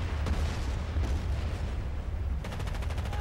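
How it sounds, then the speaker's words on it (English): Mortar strike explosions in the Medal of Honor team assault game, a dense rumbling barrage of booms and blasts with sustained low-end roar and a sharper burst of impacts near the end. "we got our mortar strike going"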